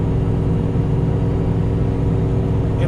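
A Ford F350 truck engine pulls a heavy enclosed trailer, a steady loud low rumble and whir holding constant throughout without pauses.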